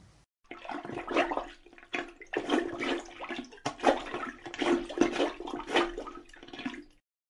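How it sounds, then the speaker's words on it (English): Plunger working to unclog a toilet, a series of wet gurgling, sloshing bursts of water in quick succession, fairly close and moderately loud, with short pauses between pushes and no talking. "why don't we listen to the sound a plunger makes in a toilet?"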